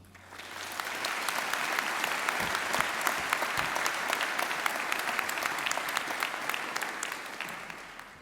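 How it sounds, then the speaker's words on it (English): Crowd applause at a university winter graduation ceremony, many hands clapping steadily, swelling in after a second and holding evenly at moderate distance before easing slightly at the end. "we should recognize their part in all of this with a big round of applause"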